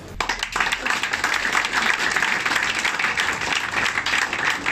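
A crowd applauds the Le Carnivore restaurant in Madagascar at a tourism gathering, a dense, steady wash of clapping that fills the whole stretch at even loudness.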